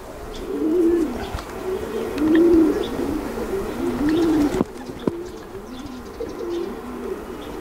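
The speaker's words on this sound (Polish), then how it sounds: "To też jest właśnie gołąbek, Rackers." Soft, repeated pigeon coos rolling in a steady rhythm, a few calls spaced apart, fairly close with light background noise.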